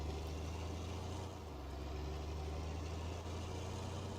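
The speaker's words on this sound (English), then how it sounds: "Oh, this tractor sounds so good," A tractor engine in a farming video game runs at a steady idle, a continuous low rumble with a strong bass hum that holds level throughout with no talk over it.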